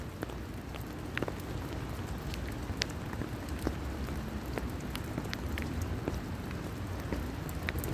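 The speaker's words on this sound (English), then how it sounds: "Hope everyone's having a great day on this rainy day. It's mild, but it's raining." Mild rain falls steadily outdoors, an even close hiss dotted with the sharp ticks of individual drops striking a surface.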